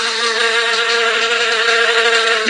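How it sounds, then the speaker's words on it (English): Bees buzz steadily in a Masha and the Bear children's video game, a dense continuous drone with many tones that holds at even loudness throughout, close and alone. "Bees are buzzing. They are gathering honey."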